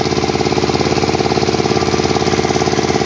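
A pump engine drawing liquid mud out of a pond runs close and loud with a fast, steady, throbbing mechanical chug that never changes pace.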